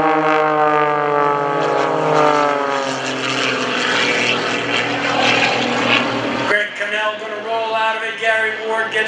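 Propeller aerobatic plane flying the squirrel cage at an airshow with smoke on, its engine roaring loud and sustained with a shifting pitch, then the tone changing abruptly near the end as it turns away.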